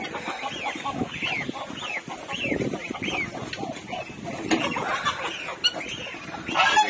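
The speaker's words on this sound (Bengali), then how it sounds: "মুরগিটা আবার ওইখানে গিয়েছে আসছে সকালে।" A pet chicken in the morning clucks repeatedly in short, close, throaty bursts, alongside other fowl and some rustling and handling noise.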